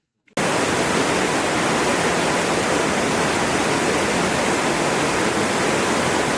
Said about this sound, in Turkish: Şelalenin sesi ya huzur verici bir hava var ve güzel yani